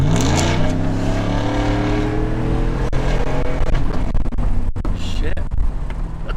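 A stock 2016 Chevrolet Silverado single cab runs on a dyno during a tune, its engine revving loud and close with rising, layered harmonic tones that build steadily, followed by a rougher, choppier stretch near the end.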